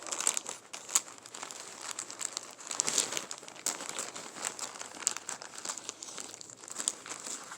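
A plastic baggie full of junk journal pages crinkles steadily as it is handled up close, with rustling bursts all the way through and no talking.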